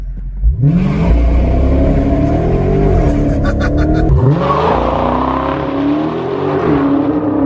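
Chrysler 300C 6.4 HEMI V8 launching hard in track mode, engine note climbing loudly through a gear change with a brief tire chirp, steady close roar throughout with no talking.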